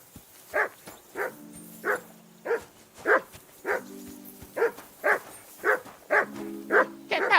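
A dog in the medieval game Kingdom Come: Deliverance 2 barks repeatedly in a steady rhythm, about a dozen sharp, close barks evenly spaced, with faint background tones between them.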